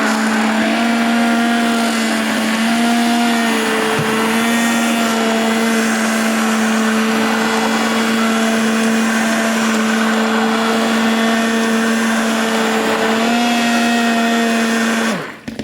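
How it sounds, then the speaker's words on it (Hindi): A kitchen blender whirs continuously while mixing haleem, a loud, steady motor drone with slight pitch dips as the load shifts, cutting off abruptly at the end. "ये आप देख सकते हैं मैं ब्लेंडर चलाने लगी हूँ।"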